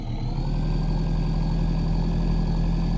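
A farm vehicle's engine drones steadily while reversing in Farming Simulator 15, a loud continuous mechanical hum with a sustained whining tone and no voices.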